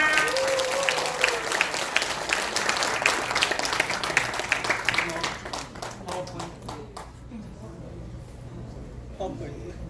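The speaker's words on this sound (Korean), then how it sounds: "자, 큰 박수로 부탁드리겠습니다" Applause from a seminar audience in Seoul, brisk crisp clapping at first that thins to scattered claps and fades, with a voice briefly heard early on.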